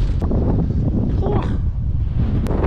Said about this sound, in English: It's a bit windier today than it was yesterday.